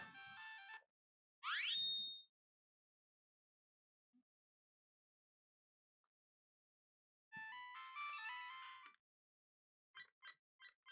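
Game sounds from a repaired Bandai WonderSwan Color handheld: short electronic chimes and a rising blip, then a longer melodic phrase and a few quick beeps, fairly faint with silent gaps between them.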